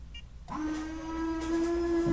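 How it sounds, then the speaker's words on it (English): A Honda's windshield washers are switched on, starting with a click, then a thin steady whirring pump whine with a light hiss of spray, fairly faint and close. "Let's see if I can get the washers to come on."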